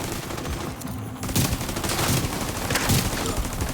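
Rapid bursts of automatic gunfire from a shooter video game, The Division 2, crackle continuously and loudly, with a denser volley kicking in partway through.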